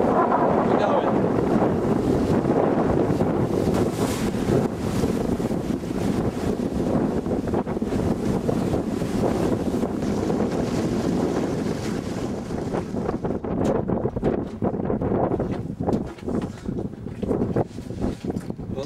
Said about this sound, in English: Just a good strong wind